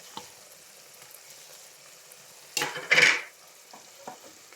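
Tomatoes, onion and chili cook in a pot for a mutton curry, a quiet sizzle broken by a couple of loud, close stirring scrapes in the middle, then soft clinks.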